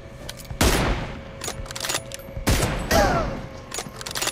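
M24 sniper rifle firing in BGMI, two loud sharp shots about two seconds apart, each with a booming tail, amid lighter clicks and background game noise.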